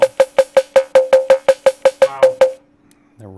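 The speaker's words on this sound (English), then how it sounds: "rubber band sound. That's so cool." Rubber band sound effect made with a very short echo: about fourteen evenly spaced twangy plucks with a ringing metallic tone, played close and loud, then silence and the start of a quiet low note.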